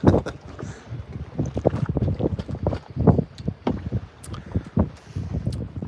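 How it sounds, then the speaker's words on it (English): Wind buffets a boat out on open water, gusty rumbles and bursts of microphone-battering noise that rise and fall unevenly throughout, loud and close. "Windy today."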